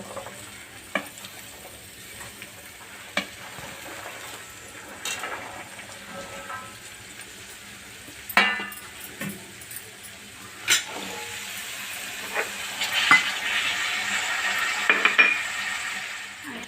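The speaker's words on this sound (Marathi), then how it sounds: "त्यामध्ये आपण सगळ्या भाज्या टाकून घेऊया" Mixed vegetables tossed into frying masala of tomato and spices for Bhogichi Bhaji, a Maharashtrian Sankranti mixed vegetable dish, stirred with a spoon against the pan; a steady sizzle runs throughout with scattered sharp scrapes and clinks, close and moderately loud.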